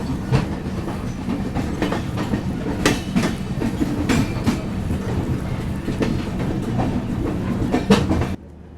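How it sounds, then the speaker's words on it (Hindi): A passenger train pulls into Jalandhar Cantt station in India, with a loud, steady rumble of rolling wagons and a run of sharp clickety-clack wheel knocks over the whole stretch before it cuts off abruptly. "अभी हमारी ट्रेन जो है वो जलंधर कैंट पहुंचने वाली है"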